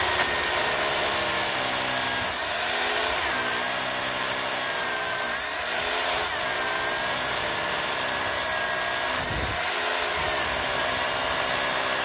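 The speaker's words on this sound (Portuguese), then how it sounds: "Fura pelo menos 15 centímetros, tá?" A power drill bores into a concrete pillar, sometimes catching on the steel reinforcement, with a steady loud grinding whine throughout and a few brief dips in pitch as the bit bites.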